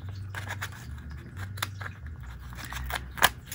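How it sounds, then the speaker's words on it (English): Cheap scissors trim washi tape on a paper envelope with a series of quiet, irregular snips and crinkly scrapes, ending in one sharper cut. "I'm going to take and trim it right there so it'll open up a little bit more."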